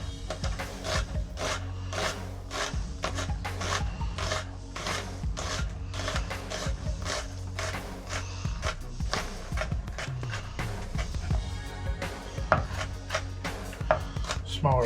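A knife slicing Roma tomatoes on a board makes a fast, steady series of crisp, close chopping taps that continue without a break for the whole stretch.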